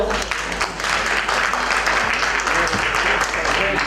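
Audience clapping at a national convention on school management committees, a dense steady applause filling the room near and continuous, with a voice speaking faintly underneath.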